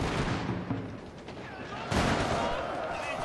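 Units firing in a Shogun 2 Total War battle, heard as a dense, continuous crackle of distant volleys and booms, with someone speaking over the fire.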